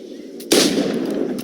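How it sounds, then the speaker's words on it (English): Single pistol shot fired in Assassin's Creed IV Black Flag, a sharp loud crack followed by a short decaying boom, alone after a brief quiet moment. "Pull off a few shots if you like"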